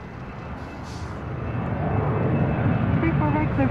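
A Delta heavy jet rolls down runway 34 right, its engine roar rising steadily from a low rumble into a loud, sustained broadband thunder as it accelerates, with faint talk in the background.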